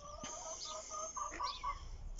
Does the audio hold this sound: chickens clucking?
yes